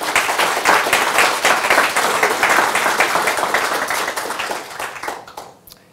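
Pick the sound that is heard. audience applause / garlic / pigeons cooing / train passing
audience applause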